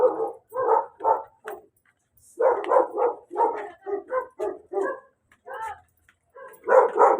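Several dogs at a house bark repeatedly in close, loud bursts, a steady run of barks with a short pause in the middle before another cluster at the end.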